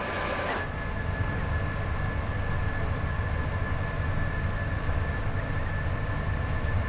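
Steady rumble of a Class 87 electric locomotive running on the Preston to Carlisle route in Train Sim World 5, continuous and even throughout with a faint sustained tone above the low drone.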